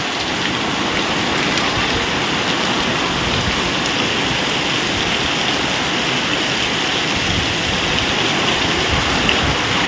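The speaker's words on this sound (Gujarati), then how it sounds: "આ સીઝન નો પહેલો વરસાદ આવો" The season's first rain pours steadily and heavily in a windy outdoor setting, a dense, loud, unbroken wash of drops with no pause.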